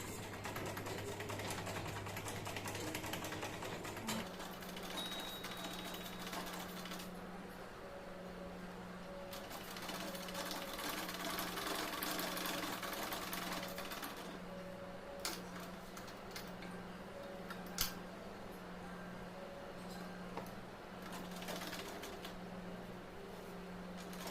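A sewing machine stitching folded fabric runs with a low steady hum and faint rapid ticking, quiet and close, with a brief change in pitch early on and a few small clicks, no talking.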